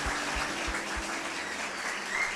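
A church congregation applauds at a festive service, a brief steady wash of clapping from many hands that holds evenly for a couple of seconds.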